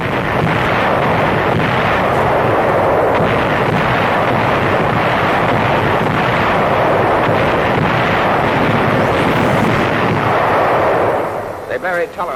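Allied artillery guns firing on German gun positions at Anzio, Italy, 1944, a dense continuous roar of gunfire and blasts throughout, loud and close, tailing off at the very end.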